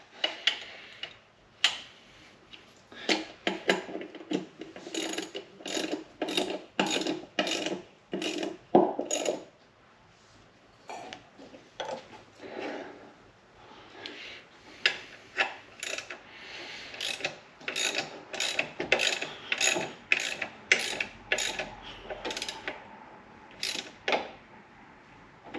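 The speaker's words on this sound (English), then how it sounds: "now we can lock down the tension adjusters with their 2 lock nuts" Ratcheting clicks from a wrench tightening the tension adjuster lock nuts on a Subaru EJ25 engine during reinstallation in a Subaru Forester, coming as close, rapid bursts of sharp metallic ticks separated by short pauses, with no talking.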